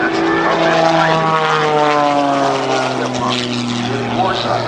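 A rebuilt vintage propeller airplane with a 365-horsepower engine roars steadily and loud overhead at an air force base air show, its droning pitch sliding gradually lower as it passes, with an announcer talking beneath.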